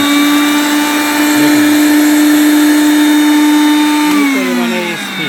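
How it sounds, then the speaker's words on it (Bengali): A Panasonic MX-AE375 mixer grinder runs empty at speed three, a loud steady high whine with a strong motor hum, holding level before the pitch dips slightly near the end. "এরপরে দিচ্ছি আপনার তিন নাম্বার স্পিড"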